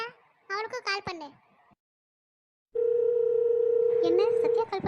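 A steady phone tone rings out for about two seconds during a call being placed, preceded by a child-like cartoon voice speaking and followed by more voices over the tone.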